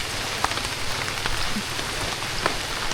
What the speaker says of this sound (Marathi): पावसाला रिमझिम सुरुवात झाली आहे